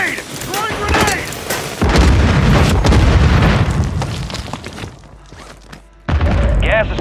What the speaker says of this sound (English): Throwing grenade! Throwing grenade!